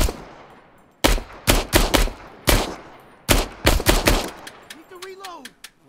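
Pistol shots ring out in Six Days in Fallujah, about a dozen sharp, loud cracks in quick irregular bursts with fading echoes, followed by a short voice near the end.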